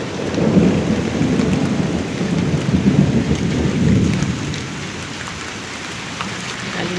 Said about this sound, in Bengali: খালি মেঘ ডাকতেছে এদিকে আর এদিকে বৃষ্টি।